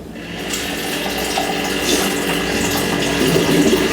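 Ice water streams from a tap into a glass as a steady, close, continuous splashing rush lasting several seconds, with no voices.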